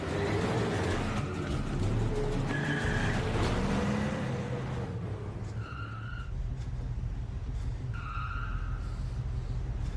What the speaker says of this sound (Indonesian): Sebuah mobil tiba-tiba datang menabraknya.